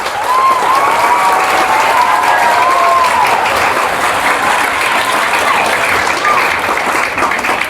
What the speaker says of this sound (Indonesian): Tepuk tangan untuk para santri.